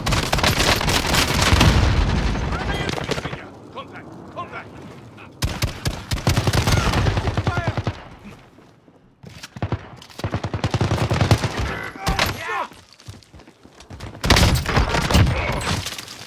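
Loud, close shotgun blasts and rapid gunfire from a Warzone Rebirth Island match come in dense bursts, separated by brief quieter gaps.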